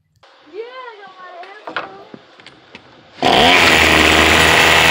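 A brushcutter engine fitted with a Chinese Walbro WT 913 carburetor fires up after someone speaks, then runs steadily and loudly at high revs through the rest.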